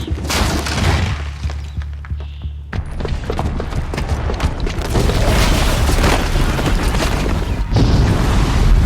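A bomb goes off in Horizon Zero Dawn with loud booming blasts and shattering debris, rumbling heavily and continuing as a dense roar of destruction close by.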